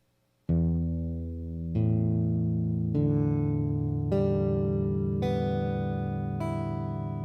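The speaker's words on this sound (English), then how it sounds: "your string should sound like this." A freshly tuned guitar string plucked six times at a steady pace, each note ringing with a strong attack and sustaining into the next, close and clean with no talk.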